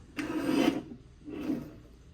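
A paper trimmer blade slides along a 3 1/4 by 12 inch scrapbook paper strip in two close rasping strokes, the first longer than the second.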